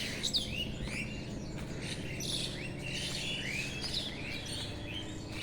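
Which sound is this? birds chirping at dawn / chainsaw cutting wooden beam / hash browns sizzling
birds chirping at dawn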